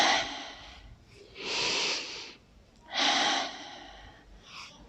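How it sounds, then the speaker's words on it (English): Heavy breathing during an exercise routine, two long loud breaths in and out at steady intervals with fainter breaths between, close and alone with no talk. "Inhale up, exhale down."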